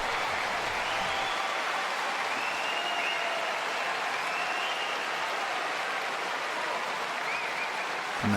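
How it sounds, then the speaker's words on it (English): Sumo spectators applaud and cheer after a win at the Nagoya tournament, a dense, steady roar of clapping that fills the hall at constant loudness with no clear voices above it. "And the crowd loves it."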